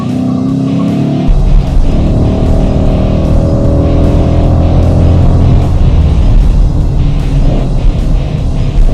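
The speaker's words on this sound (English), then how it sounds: "as soon as you step on that throttle, the power just really rips this car around" A hot hatch accelerates hard under full throttle, its engine note rising loud and close, with a sudden surge early on and then a sustained strained roar mixed with wind and road noise.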